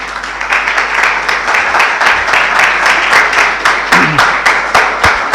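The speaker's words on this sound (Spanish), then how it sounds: "recibimos con un caluroso aplauso a Jordán Abud." Audience welcoming a speaker with warm applause at an Argentine book talk in Buenos Aires: close, vigorous, sustained clapping with individual claps standing out, and a brief murmur of voices partway through.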